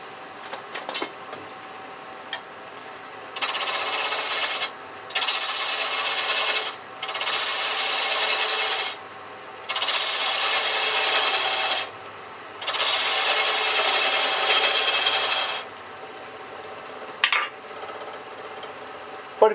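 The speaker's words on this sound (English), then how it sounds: "I'm going to spin this right now in between centers. Shields up. I can take a roughing gouge." Wood lathe spinning a wooden spinner between centers while a roughing gouge cuts it, five loud bursts of rough scraping and hissing a few seconds each, separated by short pauses with quieter taps and knocks.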